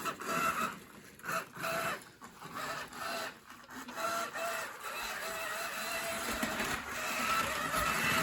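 An old model train runs along its track with a steady, close mechanical whirring and rattling that stays fairly loud throughout, the motor making an unusual buzzing, grinding sound with brief dips and surges.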